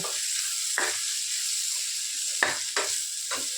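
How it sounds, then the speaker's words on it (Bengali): Onions fry in a pan with a steady high sizzle, broken by several short clattering stirs of the spoon, close and fairly loud with no voices. "পেঁয়াজ ভাজি"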